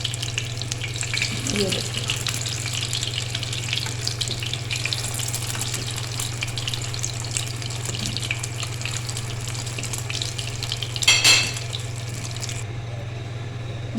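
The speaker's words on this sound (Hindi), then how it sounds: "मैं इनको फ्राई कर लूँ तो फिर वापस आती हूँ" Shami kebabs fry in oil in a pan with a steady, close sizzle over a low constant hum, with a brief clatter near the end and someone speaking briefly.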